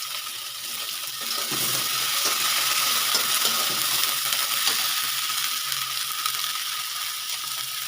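Oil sizzling in a wok while a prawn dish is cooked, a bright, continuous crackling hiss that swells after the first second and holds steady, with faint clicking stirs beneath.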